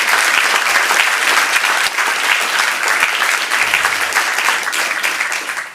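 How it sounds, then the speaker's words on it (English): Audience applause at a Burbank city council meeting honoring long-serving city employees: loud, dense, sustained clapping from a crowd in the chamber, steady throughout and easing slightly at the end. "Again, just one more round of applause for all of our 30-year employees."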